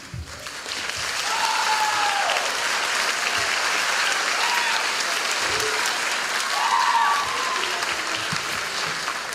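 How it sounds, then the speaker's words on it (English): Sustained applause from a seated crowd at a high school commencement ceremony, steady and full for several seconds with faint cheers rising through it, honoring parents, guardians, family and friends. "A round of applause to all of you."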